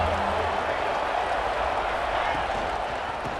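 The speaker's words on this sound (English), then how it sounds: "3rd down, and the crowd really getting into it." A crowd cheering at a third down in a College Football '26 game between Texas Tech and Utah: a steady, broad stadium roar at full level throughout, with a low voice faintly underneath.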